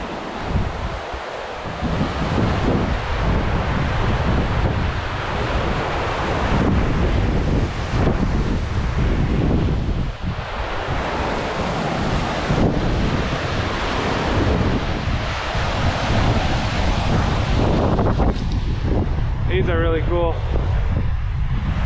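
Strong wind roars and buffets the microphone on a lakeside hiking trail at Peninsula State Park, Door County, with surf-like gusts running continuously and loud.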